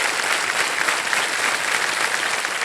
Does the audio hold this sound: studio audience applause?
yes